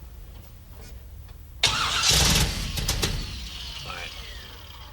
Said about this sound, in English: we want to fire it up so you can hear it today